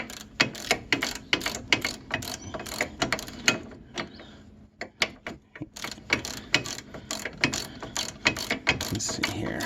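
Ratchet socket wrench working on the axle of a 2016 Polaris Sportsman 570 Touring ATV: rapid, close clicking bursts of the pawl, repeated in uneven strokes with short pauses between them.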